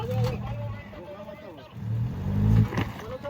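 An off-road SUV engine revs in bursts while climbing rough rocky terrain, rising and falling loudly and close, with people talking over it.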